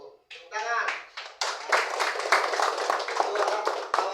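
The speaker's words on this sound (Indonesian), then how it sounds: "Tepuk tangan." Students in a classroom clap their hands, a few scattered claps building into a lively burst of group clapping, close and fairly loud, with voices talking around it.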